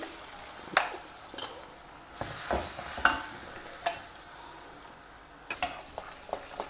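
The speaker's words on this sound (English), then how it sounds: "Now add this ground paste to this ghee." A ground paste fries in ghee over a low flame with a soft, steady sizzle, broken by sharp scrapes and taps of a spoon stirring in the pan at irregular moments, with no talking.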